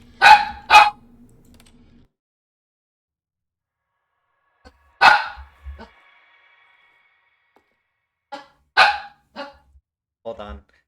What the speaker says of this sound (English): every time she's just barking